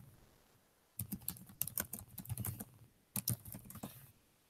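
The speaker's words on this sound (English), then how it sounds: "Here, you hear me typity type." Someone types on a computer keyboard close by, in two quick bursts of rapid clicking separated by a short pause, with no talking.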